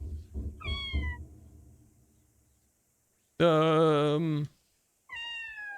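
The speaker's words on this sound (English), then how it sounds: "I am meowing at the top of my lungs, pretending the echoes belong to someone." Cat meowing in the OFF video game: two loud, drawn-out meows separated by a quiet gap, after low murmuring at the start and a brief spoken word.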